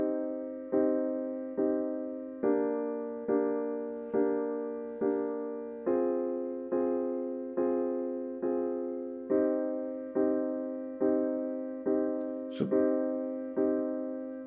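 Chords played back in steady quarter notes from Orb Composer software, a repeating pulse of even sustained tones that changes harmony every few beats. It is quiet and plays alone, apart from one brief click near the end.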